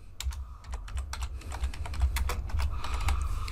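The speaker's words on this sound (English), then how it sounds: "So you can type, you can preview your text." Rapid clicking of keys on a computer keyboard while text goes into a text editor, sounding close and continuous over a low background hum.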